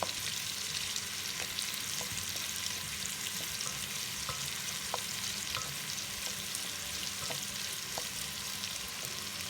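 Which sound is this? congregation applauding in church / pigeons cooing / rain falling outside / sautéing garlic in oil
sautéing garlic in oil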